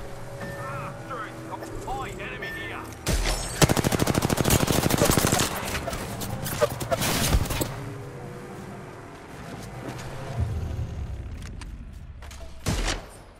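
Apex Legends gunfire: loud, rapid automatic bursts with rattling shots in a dense mid-clip volley, then scattered single cracks and a final sharp report. Game sounds hum underneath.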